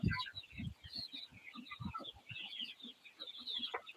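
Broiler chickens about forty days old on a poultry farm, clucking and chirping in a steady busy chorus, a low murmur of birds throughout with brighter calls scattered on top.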